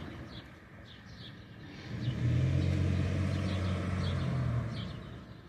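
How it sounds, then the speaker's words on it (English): A truck engine rumbles nearby as the vehicle moves back and forth outdoors, a low drone that swells for a few seconds and then eases off, with faint birdsong above it. "There's a truck moving back and forth."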